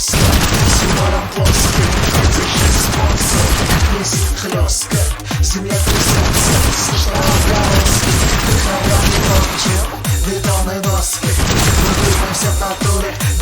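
An assault rifle fires in the video game TABG, with dense, loud bursts of rapid shots that pause briefly and then resume in fusillades.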